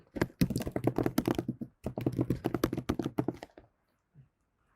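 Rapid, close keystrokes clatter on a computer keyboard in two quick bursts of typing separated by a brief pause, ending with one last faint tap.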